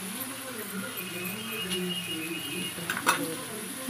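Chana dal, cumin seeds and dried red chillies frying in oil in a pan make a steady close sizzle under low, broken speech, with a few sharper scrapes of a spoon stirring near the end.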